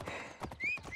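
A horse in Assassin's Creed Origins gives a few soft, muffled hoof thuds and a brief high neigh over quiet game ambience, all within about a second.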